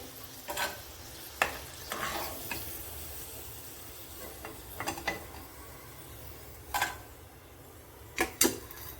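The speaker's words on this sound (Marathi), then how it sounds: "आता उरलेली भेंडी सुद्धा आपल्याला अशीच फ्राय करून घ्यायची आहे" Okra frying in oil for a crispy bhindi fry, a low steady sizzle broken by several sharp scraping and stirring clatters of a utensil in the pan.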